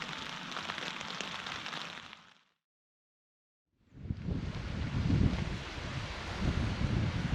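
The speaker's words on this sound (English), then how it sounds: "I fell asleep to the sound of rain on my tent" Heavy rain on a tent at night while camping in Glen Affric, a steady dense hiss of drumming drops that cuts out briefly and then returns louder and fuller.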